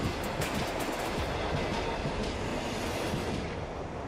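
A train rumbles past on a busy city rail line right beside a rooftop apartment garden. It is a steady, loud, close wash of rolling noise with no voices.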